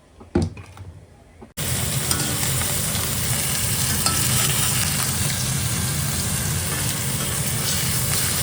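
Food frying in mustard oil in a pan, a loud, steady sizzle filling the whole clip after a quiet start with a few soft knocks, with stirring scrapes running underneath.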